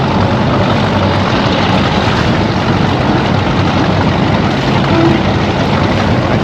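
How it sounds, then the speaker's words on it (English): A fast motorboat rushes past on the water, a steady loud broadband roar of engine and spray filling the whole stretch with no talk. "This is a really cute, cool boat."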